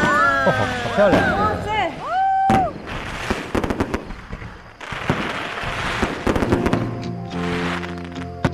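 Fireworks burst in several loud, sharp bangs with crackling tails, spaced unevenly, while people nearby talk and exclaim over them.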